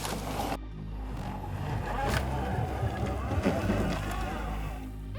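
An electric BRP Outlander quad bike climbs a steep ascent, its motor a steady, fairly loud drone running throughout with rough terrain noise and wind, and a voice talking over it.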